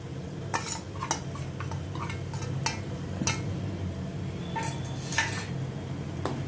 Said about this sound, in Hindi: इन सभी को अभी प्याज के साथ मैं थोड़ा सौते करती हूँ ताकि सभी का कच्चापन निकल जाए